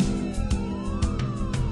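A fire engine siren wailing with a rising and falling tone, moderately loud and steady over a low rumble of traffic.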